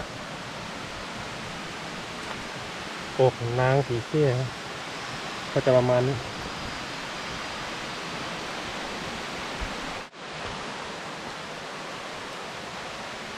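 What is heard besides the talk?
waterfall, fourth tier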